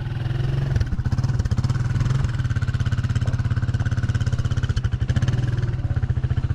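A motorcycle rides along a road in Egypt, its engine chugging steadily and loudly close by for the whole stretch, with a rapid pulsing beat and no voices heard.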